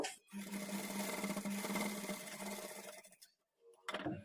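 A sewing machine runs a steady, continuous stitching whir while sewing along the folded-in edge of blouse fabric, then stops briefly and restarts for a short burst at the end; no voices.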